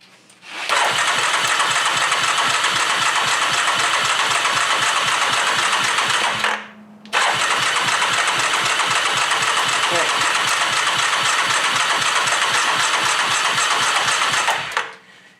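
A rebuilt Yamaha engine with a fresh top end cranks and runs with a fast, buzzing, even putter, cuts out briefly, then catches and runs steadily again.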